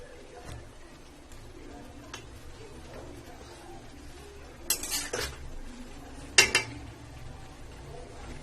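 A metal lid clanks onto a pan of simmering potato and parwal curry, giving a short cluster of clattering knocks and then a single sharp clink over a steady low kitchen background.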